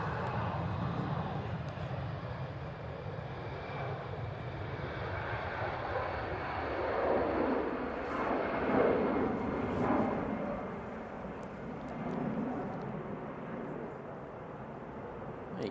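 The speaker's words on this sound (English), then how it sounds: "Oh, EasyJet off to Belfast." An EasyJet airliner takes off from Manchester Airport, its broad, steady jet roar carrying from a distance and swelling slightly midway through before easing, with no talk over it.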